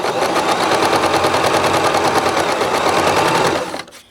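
A Bernette b33 sewing machine stitches steadily, its rapid, even needle rhythm running loud and close for about three and a half seconds before it stops.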